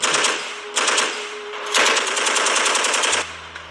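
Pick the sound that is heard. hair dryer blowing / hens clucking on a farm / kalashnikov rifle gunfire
kalashnikov rifle gunfire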